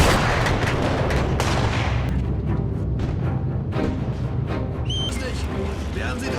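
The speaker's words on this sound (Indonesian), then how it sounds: "pasukan tentara merah menyerang mereka dengan artileri yang dilengkapi peluru anti-tank" Booming artillery fire from Red Army guns firing anti-tank shells in a war film battle scene, heavy rolling blasts and gunfire filling the mix continuously, with voices and a dense soundtrack underneath.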